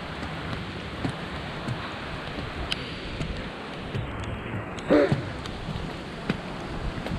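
Steady rain falls outdoors at Chimney Rock, North Carolina, on a foggy day: a constant soft hiss with a few louder patters and one brief bump, with no talk over it.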